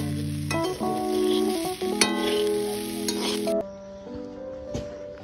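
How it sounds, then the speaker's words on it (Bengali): Potatoes frying on a clay stove, a loud continuous sizzle with stirring scrapes and clinks of the utensil, close by with no talking. "আর উনুনে হচ্ছে আলু ভাজা"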